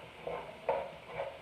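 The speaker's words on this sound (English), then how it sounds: "we're just going to brown this meat up really good" Ground meat browning in a pan for an enchilada casserole, a steady sizzle broken by a few brief stirring scrapes, close and moderately quiet with no talking.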